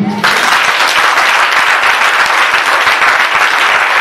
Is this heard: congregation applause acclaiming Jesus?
yes